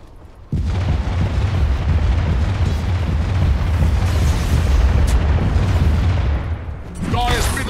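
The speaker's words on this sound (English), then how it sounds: "Dire's middle tower is under attack!" Dota 2 battle explosions as a tower comes under attack: a dense, continuous rumble of booms and blasts lasting several seconds, loud and close, easing briefly before a final burst with a short tonal effect.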